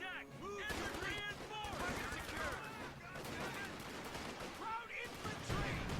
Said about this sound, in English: Using volley fire, which they're in heavy cover, so volley fire is pretty not effective.